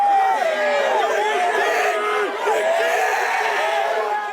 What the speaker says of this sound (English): Horses racing in the heat deserved every bit of applause on the first day of the Everest Carnival at